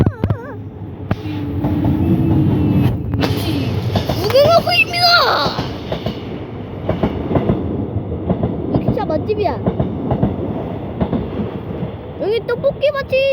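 A train rolls past near Chungjeongno station in Seoul, its rumble and rail clatter swelling up close, while people talk excitedly over it.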